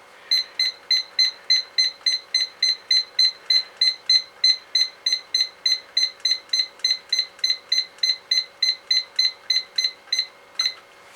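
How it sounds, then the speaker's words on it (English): An oven timer in a home kitchen beeps loud and close, a steady run of about thirty evenly spaced electronic beeps with no talk over them. "Sorry about the loud beeping."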